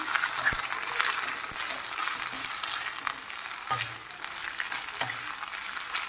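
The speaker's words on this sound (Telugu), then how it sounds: "అలా ఒక 2 మినిట్స్ ఫ్రై చేయాలండి. మూత కుక్ చేయకూడదు, ఇలానే ఫ్రై చేయాలి." Cabbage and carrot stir-frying over a high flame for street-style veg noodles, a steady close sizzle with sharp utensil scrapes and taps against the pan at irregular intervals, no talking.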